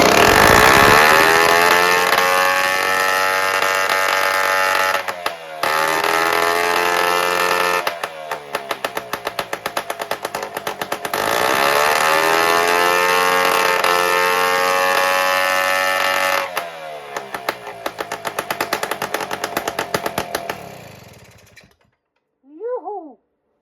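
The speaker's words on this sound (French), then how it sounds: "premier essai d'un moteur équipé d'un carter race" A small engine fitted with a race crankcase starts and runs loudly and steadily up close, its revs dipping and rising a few times before it cuts off abruptly, followed by a brief faint squeak.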